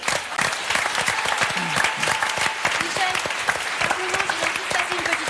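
A television studio audience applauds steadily throughout on a 1998 French Sunday variety show, a dense crowd clapping with a host's voice faintly heard over it.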